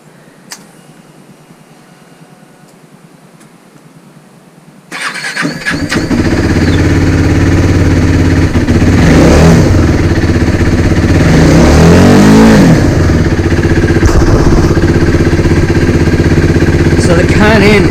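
A KTM Duke 390 motorcycle fitted with a K&N air filter starts up after a quiet moment, then idles and revs loudly close by. The induction noise swells and falls through several throttle blips.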